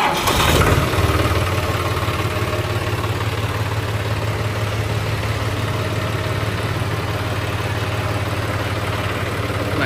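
A 13-year-old John Deere 5310 four-wheel-drive tractor with a three-cylinder engine fires up close by with a loud burst, then settles into a steady, heavy, rumbling idle that runs on alone.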